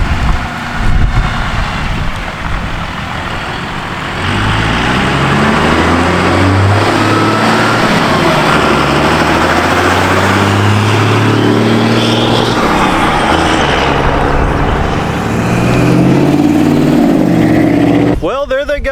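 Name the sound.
12V Cummins truck driving away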